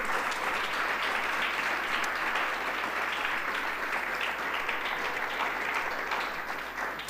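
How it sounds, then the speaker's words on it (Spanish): Sustained applause from a Sunday church congregation, steady and even throughout, heard from some distance with no talk over it. "Dele fuerte el aplauso a Cristo."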